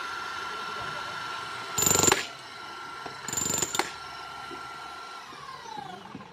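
A Makita HM1213C chipping hammer, its bit pressed against the material being cut, fires in two short loud rattling bursts separated by a pause, over a steady background hum.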